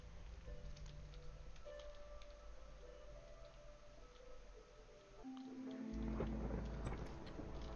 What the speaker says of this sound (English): Alright, it's the storm.